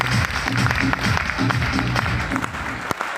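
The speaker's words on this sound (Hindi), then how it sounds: "मैं चाहूंगा सर के लिए एक जोरदार ताली हो" Seated mentors in the front rows and a hall audience give a loud round of applause, dense and continuous, with a low musical beat underneath.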